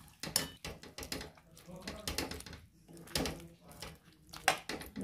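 Stir-fried vegetables being mixed into a tomato pasta sauce, with irregular wet squelching and scraping strokes of a spoon in a pan, fairly quiet and close.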